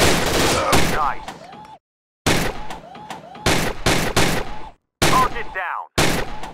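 Rapid volleys of gunfire in the VR shooting game Gun Club VR, loud close bursts separated by brief silences, with ringing tails and game voice callouts between shots.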